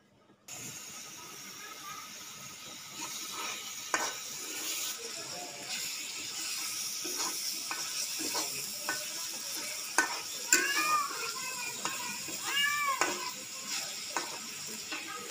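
Spices for Betawi coconut-milk soto fry in oil in a wok while being stirred, a steady sizzle with irregular scraping and clinking of the spatula against the pan, with some brief squeaky metallic scrapes toward the end.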